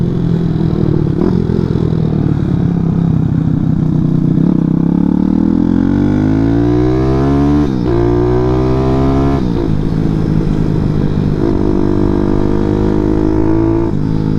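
A Grom clone motorcycle with a 212cc Daytona engine runs at speed, a loud sustained engine roar with wind buffeting, rising and falling in pitch as it shifts and accelerates, no talk.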